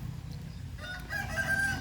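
Fighting cocks at a rural home with a fruit orchard, with a rooster crowing briefly and faintly at a distance over a constant low rumble.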